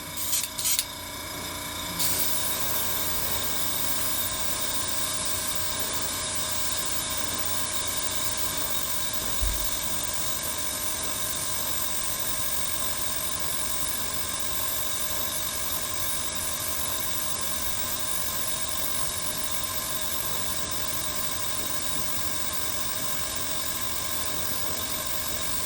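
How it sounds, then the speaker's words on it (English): An air compressor running at about 20 psi feeding a spray gun loaded with VMS No Peel primer: a continuous, steady mechanical drone and hiss throughout, close and unchanging, with no talking. "So I've got the compressor on, it's at about 20 psi"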